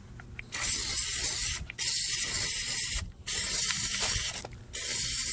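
Plasti Dip sprayed from an aerosol can onto car rims in four long, loud, hissing bursts with short gaps between them, close up and with no talk.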